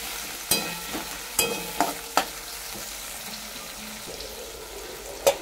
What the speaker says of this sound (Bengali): পেঁয়াজগুলো হালকা করে ভেজে নেবো।